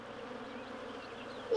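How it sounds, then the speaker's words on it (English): A swarm of bees drones in a steady low buzzing hum at close range, even and unbroken throughout. "A swarm of bees?"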